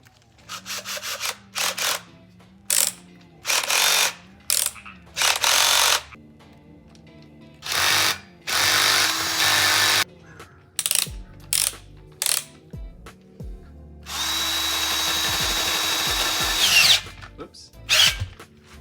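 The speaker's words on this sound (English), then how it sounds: "I'm boring them out ever so slightly so that the wobble bolts sit a little better" Power drill boring out the bolt holes of Jeep wheels to fit wobble bolts for a Porsche Cayenne, whirring in repeated short bursts with ratcheting stops, then one longer sustained run near the end, loud and close.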